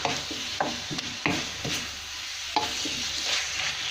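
Oroxylum vegetable and pork being stir-fried in a pan with plenty of oil, the spatula scraping and knocking in quick irregular strokes over a constant close sizzle, with no talk.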